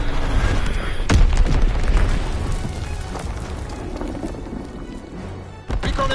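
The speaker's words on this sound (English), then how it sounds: "Dropping Fritz X bomb." A Fritz X guided bomb explodes in a video game: a sharp booming blast near the start rolls into a long, dense rumble of detonations and debris, with another burst toward the end.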